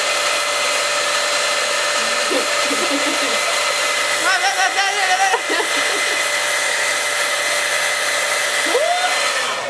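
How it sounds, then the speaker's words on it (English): A hair dryer blows steadily throughout with a constant whirring drone, close and loud, with faint voices briefly audible underneath. "I use my blow dryer mostly all the time."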